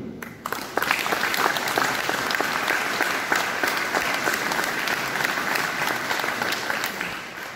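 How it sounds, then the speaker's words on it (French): An audience at a cable company's facility inauguration in Montmirail applauds M. Puzo and his team, dense sustained clapping from a large crowd that starts abruptly and holds steady throughout. "Je pense qu'on peut applaudir très fort M. Puzo, son équipe."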